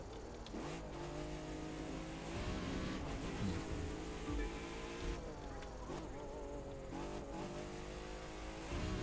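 A Porsche touring car engine revs hard on a touring car track in The Crew 2 racing game, a loud continuous roar rising and falling through gear shifts, close and sustained for the whole stretch.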